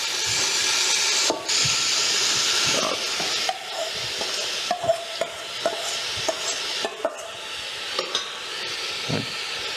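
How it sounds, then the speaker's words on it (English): Fish and other ingredients sauté in a hot pot as a spoon stirs through them, a steady close sizzle and hiss with repeated scraping clicks of stirring, no talking. "You just want it to saute down for a little bit until our ingredients are a bit soft"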